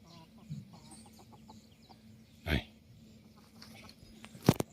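A chicken's cluck and a sharp rooster call rise briefly over a faint outdoor background, with quiet sparrow chatter between.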